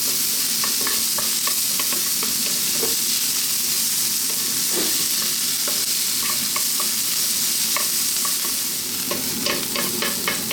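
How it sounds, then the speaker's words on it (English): Onion stir-fried over maximum heat for takeaway-style egg fried rice, a loud continuous sizzle with frequent sharp scrapes and taps of the utensil keeping it moving, no talking. "Then we're going to go onion, maximum heat."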